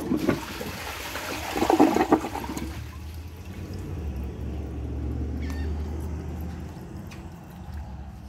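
A Glacier Bay high-efficiency toilet flushing during a test with the bowl water level low, a short rushing surge that settles into a long, quieter refill hiss and trickle.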